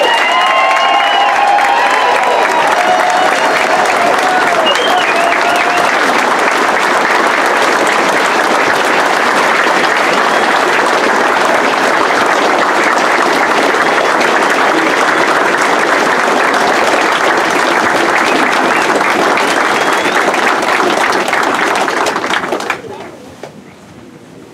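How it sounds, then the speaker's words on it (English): A large crowd at a North Country Honor Flight welcome ceremony applauds and cheers loudly and continuously for over twenty seconds, with some voices audible early on, before the sound cuts off sharply near the end. "please give a round of applause, flight number 26."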